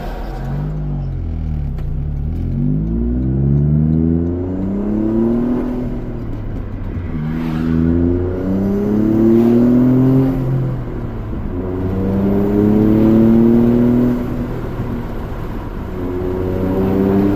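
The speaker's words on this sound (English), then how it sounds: "I know it was probably hard to hear the blow-off valve with my window down and my loud-ass exhaust." A turbocharged Toyota GR Corolla with a loud aftermarket exhaust, fitted with a Turbosmart blow-off valve, drives by with the window down, its engine note rising and falling in repeated acceleration sweeps, loud and close throughout.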